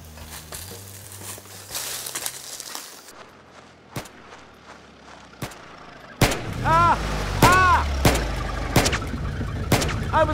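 Gunshots fired from a moving vehicle: several sharp, separate bangs over a low engine rumble, sparse at first and then louder and closer together, with rattling and a warbling tone among the later shots.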